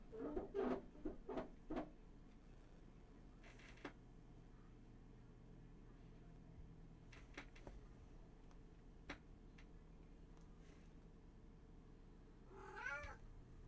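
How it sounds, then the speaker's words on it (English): A house cat gives a few short meows near the start, then a single louder meow near the end, with long quiet stretches and faint ticking sounds in between. "Both of my kitties here are visiting me."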